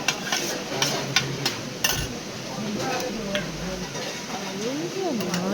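Ghee sizzles as food fries in a pan, with utensils scraping and clinking against the cookware while voices talk over it throughout.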